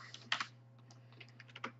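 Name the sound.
typing on a computer keyboard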